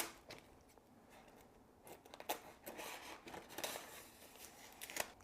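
Scissors cut transfer tape off a roll while a vinyl wrap is applied to a tumbler. Soft, close snips and crinkly tearing sounds come in irregular bursts, quiet and with no talking.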